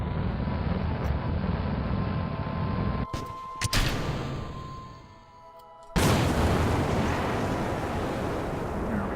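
A rocket engine burn in Kerbal Space Program: a steady, dense roar that cuts out and thumps around the middle, dips to quiet, then comes back abruptly at full loudness and holds.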